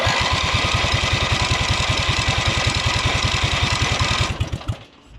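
A drag race lawnmower engine fires on choke during its first start, running in a fast, loud, rapid chug for about four seconds before cutting out abruptly.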